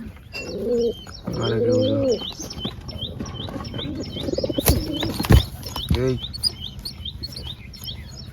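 Pigeons coo and chirp in short repeated calls nearby, with a few sharp knocks and some background murmur.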